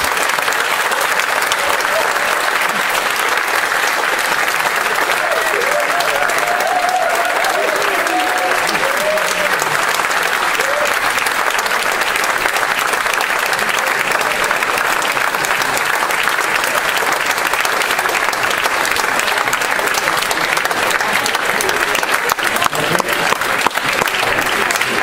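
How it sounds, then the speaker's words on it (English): Enormous, sustained audience applause rolls on without pause as choir singers from Sardinia and Dublin walk onto a concert stage, a dense even wash of clapping with no speech. "they might enter onto the stage to enormous applause"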